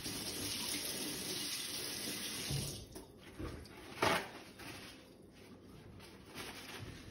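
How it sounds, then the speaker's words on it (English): Tap water runs into a sink as a make-up brush gets a final rinse, a steady hiss of flowing water with a few splashy bursts partway through, and no voices. "I'm gonna give it one more quick rinse."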